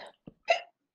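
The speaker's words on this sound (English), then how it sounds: "Oh, hiccups." A single hiccup, short and close, surrounded by a few faint breathy throat sounds.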